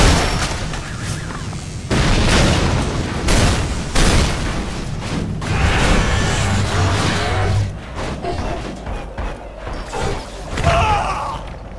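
Explosions and gunfire from the first-person shooter Hard Reset, with dense, loud booms and crashing debris layered in a constant chaotic battle mix across the whole stretch.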